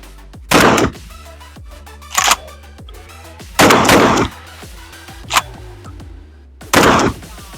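Semi-auto shotgun shooting light, underpowered loads, five sharp loud blasts spaced irregularly about one to one and a half seconds apart, each with a short ringing decay and metallic clatter between shots.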